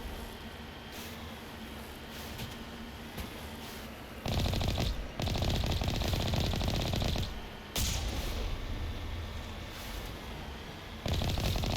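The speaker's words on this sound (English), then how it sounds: "Is he shooting at me?" Gunfire from the Mass Effect game rattles in bursts, quieter rapid shots at first, then loud sustained automatic volleys breaking off and resuming, distant-to-near with a steady background hum.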